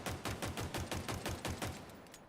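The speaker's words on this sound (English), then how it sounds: "I'm gonna mag dump here." A full magazine emptied in Halo Infinite: about nine evenly spaced shots fired in a quick steady rhythm, fairly quiet and slightly distant, trailing off at the end.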